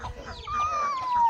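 A hen of a fighting breed gives a drawn-out clucking call over soft farmyard background noise. The call is close and rises, then slowly falls.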